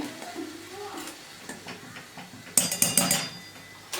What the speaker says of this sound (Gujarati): આપણે વઘારને મૂકી દઈએ તો આ જે પ્રોસેસ છે બહુ જ મહત્ત્વની છે અને હવે આપણે ફરી હલાવી લેવાનું છે